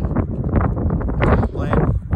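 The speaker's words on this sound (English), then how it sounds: "but it's so dang windy" Strong wind buffets the microphone in a loud, continuous low rumble on Lake Mary, with a voice partly audible beneath the gusts.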